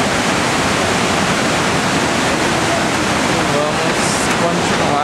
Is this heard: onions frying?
no